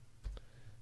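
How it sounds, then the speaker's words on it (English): The escape key is pressed on a computer keyboard during ECU remapping file work, giving a single quick, close click in an otherwise quiet room. "the quickest way to do it is just press the escape"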